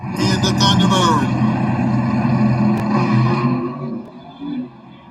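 Mustang II and Thunderbird stick-shift drag cars idle and rev loudly at the starting line of a drag race, a steady engine rumble with rising revs that fades near the end, under an announcer's voice.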